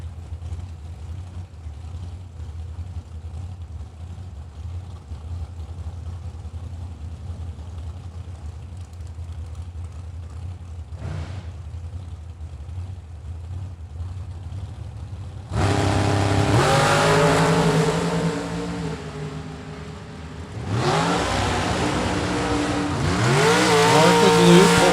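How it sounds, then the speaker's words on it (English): Little blown dragster from Fort Wayne, Indiana, at a drag race, a steady low rumble for a long stretch before a sudden loud launch roar, a brief drop, then a second surging roar, loud and close. "Poyser in the little blown dragster out of Fort Wayne, Indiana"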